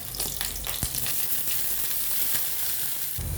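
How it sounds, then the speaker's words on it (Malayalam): Green chili, ginger, onion, carrot and garlic sautéing in a pan for chutney, a dense continuous sizzle with a few stirring scrapes, close and steady. "ഇത് നല്ലോണം നമുക്കൊന്ന് വഴറ്റിയെടുക്കാം കേട്ടോ"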